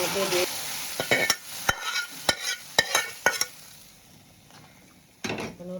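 Fried spice masala goes into moong dal cooking in a kadai, with a brief burst of sizzle followed by a run of sharp metal clinks and scrapes of a spoon stirring, then another hiss near the end.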